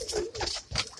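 Pigeons cooing inside a coop, a few close, soft throaty coos following one another with faint rustling between them.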